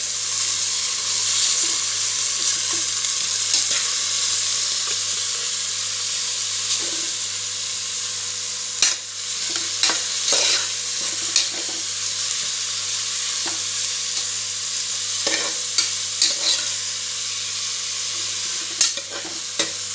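Onions sizzle steadily in a pan for biryani, with a constant bright frying hiss and scattered scrapes and clicks of a spoon stirring through them, close and fairly loud, with no voices.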